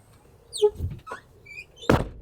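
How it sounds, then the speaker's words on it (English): An SUV door is pushed shut during a camping setup. Light taps and shuffles come first, then one solid close-range thunk near the end, with no talking. "we got to make sure that we can close the door. It should close."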